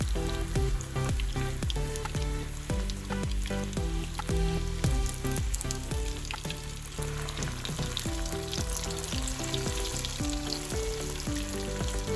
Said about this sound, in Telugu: ఇప్పుడు ఒక కడాయిలో డీప్ ఫ్రైకి సరిపడా ఆయిల్ వేడి చేసుకుని ఈ బాల్స్ అన్నిటిని ఫ్రై చేసుకోవాలి